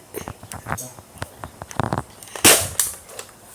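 A Nerf blaster fires a mega dart with one sharp, loud snapping pop, preceded by close clicks and handling noises while people talk nearby.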